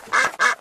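Ducks at a pond quacking in a few loud, close bursts, with short gaps between calls.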